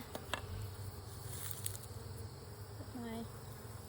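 Buzzing honeybees crowd a backyard hive being inspected, a steady close drone broken by a few light knocks and clicks from handling.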